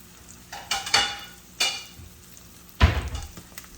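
Bread slices warming in a frying pan with tallow and butter for a carnivore breakfast sandwich give a soft sizzle under a few louder bumps and scrapes of the pan, close by with no talking.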